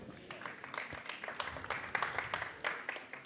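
Light, sparse clapping from a small group during a Spain versus France esports tournament match, a short golf clap rising and falling over a few seconds with no talk over it.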